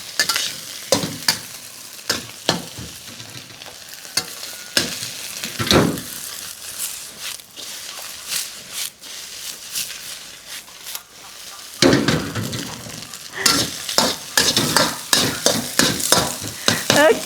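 Shrimp fried rice tossed in a hot wok with a spatula, Thai style over high heat: repeated sharp scraping strokes over a continuous sizzle, loud and close, with a brief pause in the middle.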